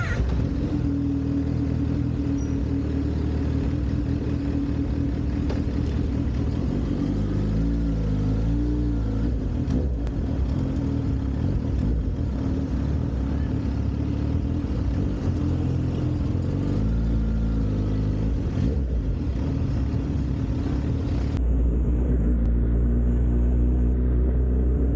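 A Kawasaki ZH2 motorcycle engine runs close and loud throughout, with a steady low rumble broken by several throttle blips where the pitch rises and falls, and no talking.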